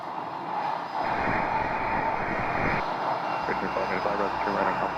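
A jet airplane roars on departure at Scottsdale, a broad rushing engine noise that swells and holds, with some faint talk mixed in underneath.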